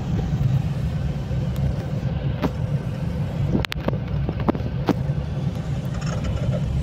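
A vehicle idles and moves steadily as it turns around near a garage in Mahagama, Urja Nagar, with a constant low engine rumble and a few sharp clicks and knocks over it.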